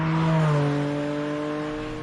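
A Porsche engine holds a steady, loud, harmonic-rich note that eases slightly lower in pitch and fades a little, heard on its own without voices.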